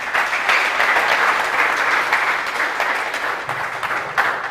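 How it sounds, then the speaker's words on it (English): An audience at an embedded systems and robotics event gives a sustained round of applause, a dense, even wash of many hands clapping that stays loud throughout, with no voices over it. "Big round of applause."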